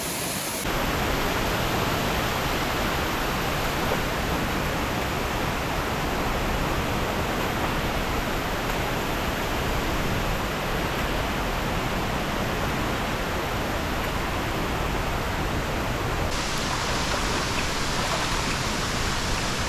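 Steady, dense roar of Sekumpul Waterfall in Bali, a continuous broadband rush of falling water that stays loud and unbroken throughout, close by and with no voices over it.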